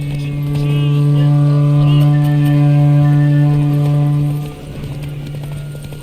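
Roach the horse galloping in The Witcher 3 video game during a race, hooves clopping under a loud, steady droning tone that cuts out near the end.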